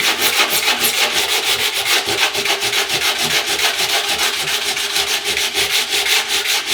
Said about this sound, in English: There's a bit of residue resin that's come around the bottom. You want to sand that smooth.